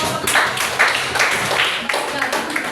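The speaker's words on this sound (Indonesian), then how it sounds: "silakan teman-teman tepuk tangannya" A class of students claps hands together after a group presentation in a guided practice-teaching lesson, loud and close, with rhythmic bursts of clapping repeating across the stretch.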